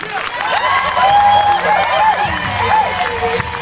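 Crowd applause and cheers for Philippe, the show organizer, at an Indian Summer pow-wow spectacle at OK Corral: a loud, continuous roar of clapping with raised voices and whoops mixed through it.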